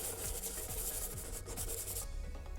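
Close, rapid scratchy rubbing strokes of a sanding stick smoothing burrs on a hard surface, repeated back and forth for a couple of seconds without speech.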